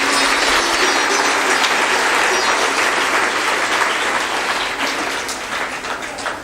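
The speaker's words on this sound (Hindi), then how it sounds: "उनके लिए हम सब लोगों को ताली बजाकर उनका सम्मान करना चाहिए।" An audience at a Hindi religious talk bursts into loud, dense applause, many hands clapping together in a sustained roar that slowly thins toward the end.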